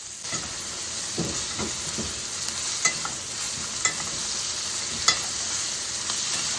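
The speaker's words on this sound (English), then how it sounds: "I'm going to go in with some Kerrygold butter, rosemary, and some garlic cloves. And I'm going to begin to baste the top of this steak" Steak sizzling loudly in a pan while being basted with Kerrygold butter, rosemary and garlic cloves, a continuous bright hiss with repeated spoon scrapes and a few sharp clinks.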